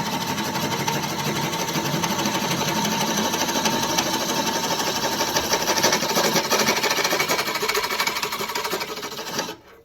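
Wood lathe spinning a hollow form while a tool cuts, a loud continuous whirring and rasping hum that holds steady for several seconds then cuts off abruptly near the end.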